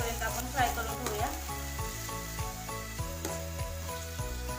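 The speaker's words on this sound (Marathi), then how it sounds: "कांदा असा छान गोल्डन कलर येईपर्यंत आपण फ्राय करून घेऊया" Chopped onions, four large ones, frying in hot oil, giving a loud, steady close sizzle with a few stirring scrapes, while tuneful background music plays underneath.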